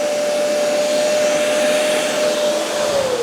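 A Bissell Revolution HydroSteam carpet cleaner runs steadily with a loud, constant motor whine and airy rush, its pitch dipping slightly near the end as the load shifts.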